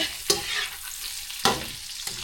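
Noodles with spring onions, garlic and onions are stirred and tossed in a hot pan, a steady sizzle broken by a few sharp scraping strokes of the utensil, close up with no talking.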